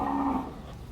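Cattle at a livestock market in Wang Prachop, Tak, where a bull is on show; a short, low moo sounds briefly at moderate distance before fading into the market's background murmur.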